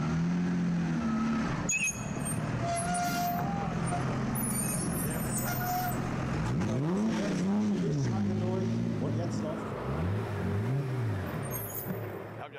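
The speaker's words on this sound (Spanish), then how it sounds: "Das ist ein Alfa Romeo 1750 GS Kompressor und den können wir jetzt auch noch mal hören." A vintage Alfa Romeo 1750 GS Kompressor supercharged engine rumbles steadily and loudly throughout, with revs rising and falling in waves near the end while people talk over it.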